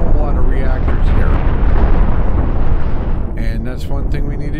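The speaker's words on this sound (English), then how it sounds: "we are just taking a pounding from all these cannons" Heavy cannon fire and explosions rumble continuously as a spaceship takes a pounding in the Cosmoteer space combat game, with a dense, loud low roar and scattered bursts near the end.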